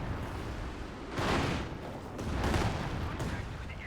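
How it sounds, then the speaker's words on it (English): A Werfer rocket artillery barrage in a strategy war game sounds as continuous rumbling blasts, swelling in two heavy waves over a steady roar of battle noise. "Nice barrage from the Werfer."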